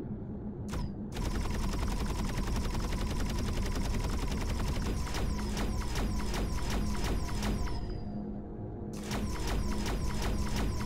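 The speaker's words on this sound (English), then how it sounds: "Rapid fire." Rapid automatic weapon fire in the game Empyrion, a fast steady stream of sharp mechanical shots that runs almost unbroken, briefly pausing before resuming, loud and close.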